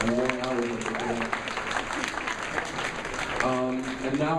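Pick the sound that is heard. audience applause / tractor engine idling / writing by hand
audience applause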